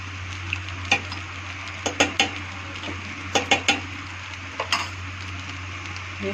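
A spoon stirs veg pulao in a pot with ghee and crushed cardamom: scattered light metallic clinks and scrapes against the pot over a steady low kitchen hum, close and moderately quiet.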